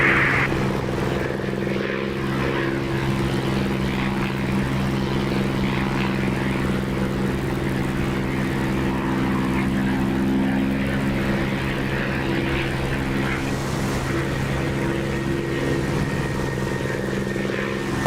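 A Warhawk fighter's propeller engine in the DCS flight simulator drones steadily and loudly throughout, a continuous low harmonic hum that holds level with no talk over it.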